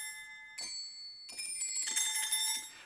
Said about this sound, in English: I've skipped over the bell tree, which was the octave below.